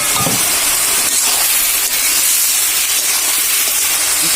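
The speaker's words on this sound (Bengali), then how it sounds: "আর ঢাকনাটা এখন উঠিয়ে নিচ্ছি আমরা।" Lid lifted off a pot of cooking vegetable khichuri, releasing a loud, continuous hiss of steam that stays steady from start to finish.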